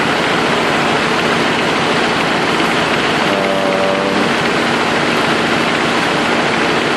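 A Nissan RB20DET engine with a cylinder misfire runs steadily and loudly nearby, a dense, noisy roar that fills the whole stretch with no talk over it.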